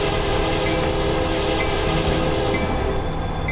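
Train rumbling past in Train Simulator 2015 on the Cajon Pass, a steady loud mechanical roar with faint tonal horn-like lines, fading slightly near the end.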